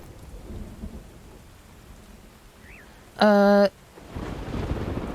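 Steady rain hisses under a low thunder rumble in the video game Myth of Empires, interrupted by a short, loud electronic tone before the rain swells again.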